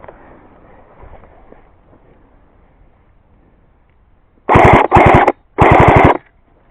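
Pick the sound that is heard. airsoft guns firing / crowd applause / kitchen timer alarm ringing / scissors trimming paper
airsoft guns firing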